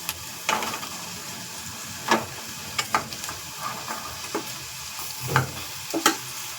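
Masala fries and sizzles in a pan while a spoon scrapes and stirs it in short, irregular strokes. The sound is close and fairly quiet, with a soft hiss underneath.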